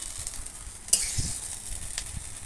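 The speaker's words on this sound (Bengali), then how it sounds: "এইগুলো দিয়েই আমি ভাজি করব" Taro stolons frying in a pan with dried and green chillies, heard as a soft, steady sizzle close by, with a brief clink of a spoon stirring the pan and no talking.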